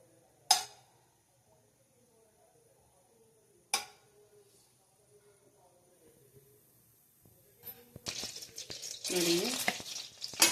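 Butter melting in peanut oil in a pan, with two sharp knocks early on, then a soft sizzle that rises into louder crackling and stirring near the end, heard close up.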